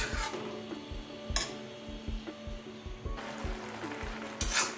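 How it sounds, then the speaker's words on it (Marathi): Carrots cook in milk for carrot halwa made without khoya, a soft continuous sizzle with regular low bubbling pops and occasional brief bursts of spatter, quiet and close. "आता दुधामध्ये छान आपल्याला गाजर शिजवून घ्यायचे।"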